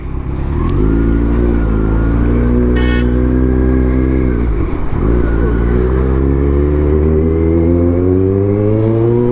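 A bus from Mahad on the road near Tamhini Ghat, a loud close engine drone that rises and dips as it passes, with a short horn-like burst early on.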